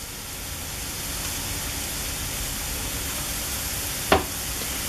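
Garlic and other ingredients for a Chilean seafood chupe sauté in a pan with a soft, even sizzle throughout, broken once by a brief sharp clatter near the end.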